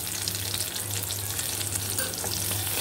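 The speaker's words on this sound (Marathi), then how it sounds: "तेलामध्ये थोडंसं जिरे, थोडीशी डाळ, कांदा" Cumin, dal and sliced onion sauté in hot oil, a close, even sizzle with a faint low hum beneath and light stirring scrapes, no voices.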